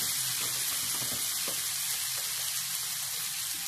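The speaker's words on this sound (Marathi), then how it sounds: "सगळे मसाले एकत्र होईपर्यंत परतून घ्यायचं आपल्याला" Spices fry in a hot pan for a Maharashtrian dal dish, giving a steady, dense sizzle with occasional soft stirring scrapes throughout.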